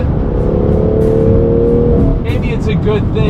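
A BMW M2 CS sports car with turbochargers accelerates hard, its engine a loud, steady drone that builds gradually, with a voice briefly heard over it near the end.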